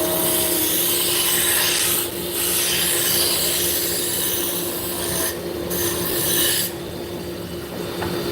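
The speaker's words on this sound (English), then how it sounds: "You're using a skew as a scraper." A skew chisel held flat as a scraper against spinning wood on a lathe gives a steady, close rasping rub, interrupted by a few brief pauses as the tool lifts away.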